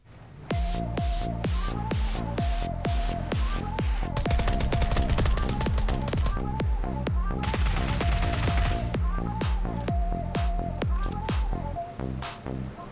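Rapid bursts of automatic gunfire in PUBG, sharp repeated shots in steady rhythmic volleys with a denser, heavier stretch midway, loud and close, fading out at the end.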